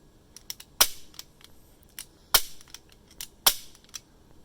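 Colt Combat M1911 CO2 airsoft pistol firing three sharp, loud cracks about a second and a half apart, with lighter mechanical clicks and taps scattered between the shots.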